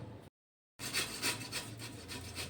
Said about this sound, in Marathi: दोन रताळी शिजवून घेतले आहेत आता आपण त्याला किसून घ्यायची